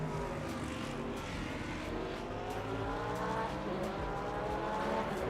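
Hypercar racing in the Le Mans Ultimate game at Interlagos, a continuous loud engine roar with shifting pitch as cars run close together, with faint tire noise underneath.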